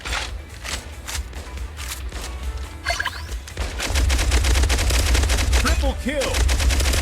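Minigun fire in the video game Pixel Gun 2 rattles in long, dense, continuous bursts, loud and close, with other gunfire and game effects layered in and growing heavier toward the end.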